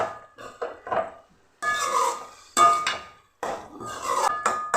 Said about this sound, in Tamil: நல்லா ஒரு வணக்கு வணக்கி விட்டுக்கலாம்